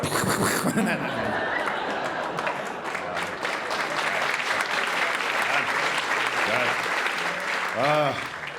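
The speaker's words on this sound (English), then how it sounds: "I'm glad you're clapping." A comedy club audience claps steadily and loudly at a stand-up set, with scattered chuckles and laughter mixed in, fading near the end as a voice comes back.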